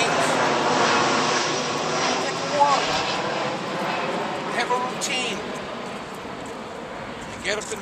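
Steady jet aircraft roar passing overhead, broad and continuous, fading slightly toward the end while a voice talks faintly in the background.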